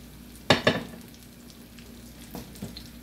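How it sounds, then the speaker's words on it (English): Sliced baked potatoes in a skillet, a low steady frying hiss with a pair of sharp clattering knocks early on and two softer ones later, nearby and without talking. "I'm gonna put them in the skillet."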